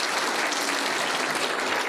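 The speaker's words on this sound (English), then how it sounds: "This man deserves a big round of applause." An audience at a Hamvention 2023 amateur radio forum applauds, giving a steady wash of dense clapping throughout at moderate distance.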